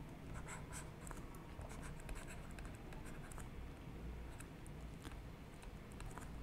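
Chalk or marker writing on a board during a physics lecture, a quiet run of scratchy strokes and light taps against faint room hum, with no one speaking.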